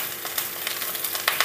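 Crushed garlic and ginger frying in coconut oil for a Kerala stingray curry, a steady close sizzle with crackling pops, no talking.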